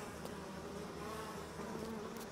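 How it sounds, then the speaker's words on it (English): Bees in BioShock, a faint, steady insect buzz droning continuously in the background with slight wavering, no voices present. "Oh, well, we got bees in there"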